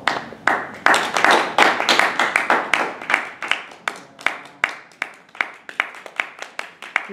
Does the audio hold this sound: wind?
no